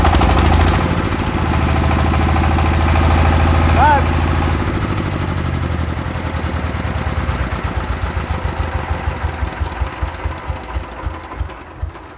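A Saifeng 12 hp water-cooled diesel engine runs loud and close with a heavy, even chugging. It then winds down into slower, distinct thumps that space out toward the end, with people talking nearby.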